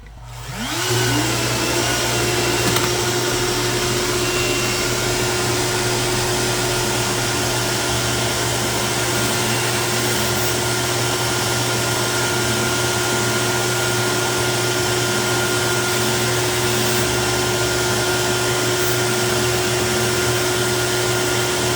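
CNC machine cutting XPS foam, a loud, continuous roar with a steady high whine that runs unbroken for the whole stretch after a brief spin-up at the start.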